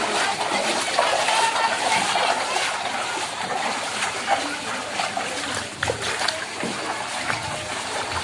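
Dirty gutter water pouring and splashing through a narrow residential lane during the first monsoon rain, a steady close broadband rush of flowing water with scattered splatters throughout, no voices.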